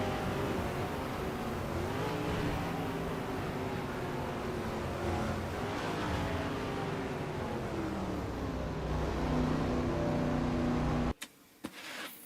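A stock car engine drones steadily from the cockpit in a superspeedway racing video game, a loud continuous roar with slowly shifting pitch that cuts off abruptly near the end.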